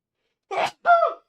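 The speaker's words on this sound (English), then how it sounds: "I'm gonna sneeze." A single sneeze, close and fairly loud, in two bursts: a sharp intake followed by the explosive release, with no other sound around it.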